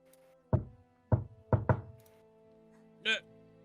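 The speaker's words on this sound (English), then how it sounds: "Nobody seems to answer your first knock." Knocks on a door, in a quiet room: a single rap, another, then a quick double knock, each a sharp hollow thud, followed by a brief faint scrape.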